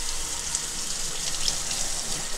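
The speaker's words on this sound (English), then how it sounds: "let's go ahead and rinse this out" Water runs steadily from a kitchen tap into a sink as something is rinsed, giving a loud, even hiss that lasts the whole time.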